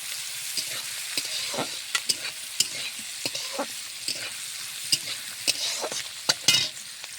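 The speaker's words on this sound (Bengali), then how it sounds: "একটু লাড়াচাড়া করে নিলেই ভাজা হয়ে যাবে" Peas, cashews and raisins being stirred and fried together in a pan, a steady close sizzle broken by frequent sharp scrapes and clinks of the spoon, with no talking.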